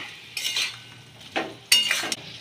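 Fried potatoes dropped into a pan of sautéed spices with coriander powder for a cauliflower curry, followed by a few short scraping, clinking stirs of a spoon against the pan, close and moderately loud.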